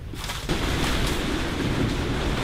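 Strong wind buffets a sailboat moored off the coast of Italy in heavy weather, a steady loud roar with gusty rushing and microphone buffeting throughout, no voices.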